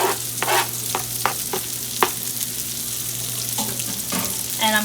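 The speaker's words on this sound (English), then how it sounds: "once my bacon starts browning and getting a little crispy" Bacon frying in a pan until it browns and crisps, giving a loud, steady sizzle with occasional sharper pops and spatters close to the microphone, and no one speaking.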